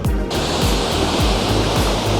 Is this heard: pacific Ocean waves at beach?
yes